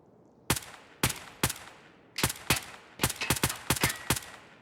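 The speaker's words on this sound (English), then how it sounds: "He's shooting at the dead body." Video game gunfire rings out in sharp, separate shots, first spaced roughly half a second apart and then in quicker bursts, loud and close with no talking over it.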